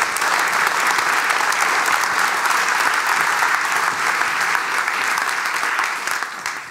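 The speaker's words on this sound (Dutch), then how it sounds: "Ik zeg, dat was een lang applaus, Pieter." Long, sustained audience applause fills a Dutch public closing meeting, a thick, even wash of many hands clapping that holds steady and only begins to fade near the end.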